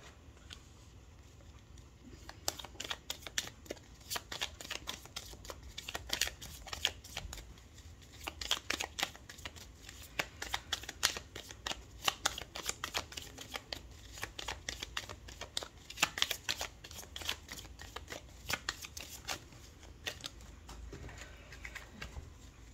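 Tarot cards being shuffled and cut in a steady run of soft, papery riffles and flicks, close and fairly quiet, lasting the whole stretch with no talk.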